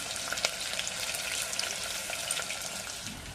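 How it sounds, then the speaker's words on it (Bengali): Carrots, cauliflower and peas fry in a pan for dal khichdi, giving a soft, steady sizzle with faint crackles throughout a few seconds, close up and fairly quiet. "এখন সবজির সাথে ভাজবো"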